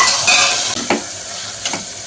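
Two medium chopped tomatoes dropped into a hot pan for goat intestine boti curry, a loud close hiss of sizzling oil with a couple of quick stirring scrapes.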